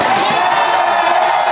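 A huge stadium crowd of over 52,000 baseball fans at Dodger Stadium roars and cheers in a loud, continuous mass of shouting and whooping.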